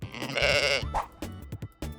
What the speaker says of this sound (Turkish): Bir koyun var.